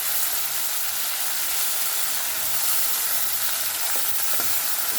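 Washed chicken pieces fry in a pan for chicken curry with a strong, steady sizzle and faint stirring scrapes near the end, heard close up with no voices.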